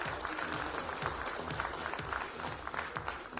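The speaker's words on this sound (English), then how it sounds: "Please give them a round of applause." Applause from an audience at an awards ceremony, a moderately sized crowd clapping steadily with distinct individual claps audible, somewhat distant and fairly quiet throughout.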